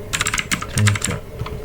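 Keystrokes on a computer keyboard while entering a command in a command prompt for a network simulation, a quick burst of fairly close clicks, pausing, then a few more taps.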